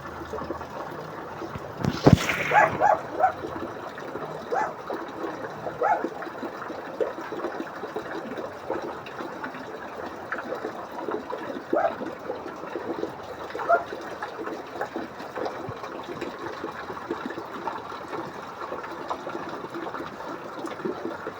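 Heavy rain and flood water pour across the Maharlika Highway in Quezon on Christmas Eve. A continuous wash of rushing water and rainfall begins with a brief louder splash and stays steady throughout, with no talk.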